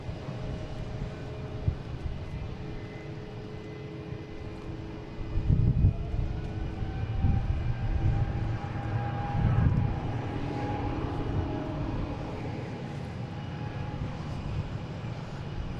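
Delta Airbus A330-900 jet at Boston Logan heard from a distance, a steady low rumbling roar with faint whining engine tones that swell slightly midway and hold across the span, no talking.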